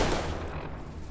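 Shotgun fire in Fallout New Vegas. The firing is dense and noisy, a burst of shots in quick succession that fills the whole short moment.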